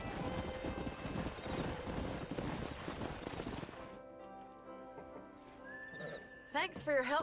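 Horse hooves clip-clop steadily in the Red Dead Redemption video game, mixed with game ambience. Toward the end someone talks.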